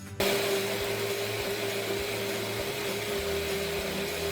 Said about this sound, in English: And now we're just gonna blend it up.